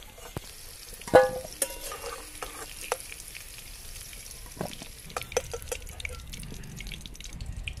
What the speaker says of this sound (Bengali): আলুগুলো ভাজা ভাজা হয়ে গেছে